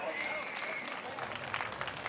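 Applause from the audience at a Chhattisgarhi folk theatre (lok kala manch) play: a faint, steady wash of distant clapping and crowd noise that runs through the whole stretch.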